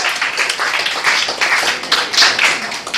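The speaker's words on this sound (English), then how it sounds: "Give yourselves a round of applause." Audience applause fills a comedy night at Cafe Diem in Richmond, Virginia: dense, loud clapping that holds steady for the full stretch, with no voices over it.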